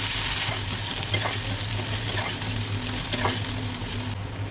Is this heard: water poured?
no